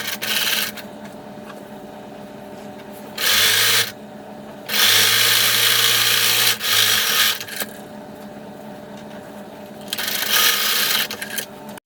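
A sewing machine stitching the seams of a child's puffy pumpkin costume at the neckline runs in several bursts of a few seconds each, a steady whirring hum with pauses between stitches, fairly close.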